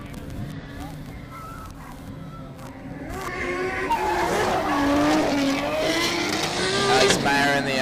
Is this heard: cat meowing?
no